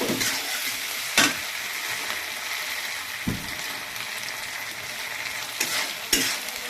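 Green chillies fry in a pan under a steady close sizzle, broken by four or five distinct scraping stir strokes spaced irregularly, with no voices.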